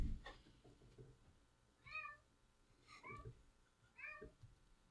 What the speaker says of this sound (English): You might be able to hear that my cat Elro has some opinions about the whole thing